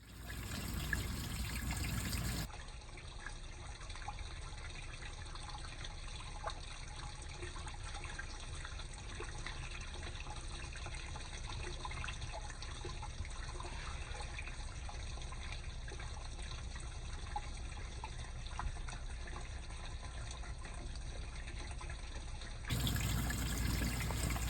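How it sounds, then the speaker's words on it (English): Water trickles and runs steadily through a hydroponic farmstand, a continuous low wash with a faint gurgle that holds even for about twenty seconds, with no talking. "Now let's run our water through."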